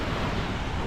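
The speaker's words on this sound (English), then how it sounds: "The waves are like really high." High sea waves at Nha Trang beach in the rain roar as a broad, steady wash of surf noise mixed with wind buffeting the microphone, brief and unbroken.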